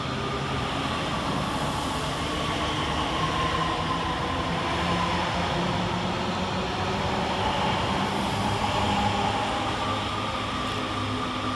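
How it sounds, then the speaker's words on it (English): Northern class 331 electric trains departing Bolton railway station in thick fog, a steady rolling rumble of rail wheels and a faint electric motor whine that rises gently, continuous and fairly close, no talking. "331027 and 331010 depart the other way, with the 1354 Northern service from Blackpool North to Manchester Airport"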